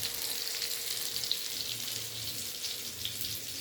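Eggplant omelette pieces (tortang talong) fry in a pan with a steady, fairly quiet sizzle and crackle throughout, with no voices.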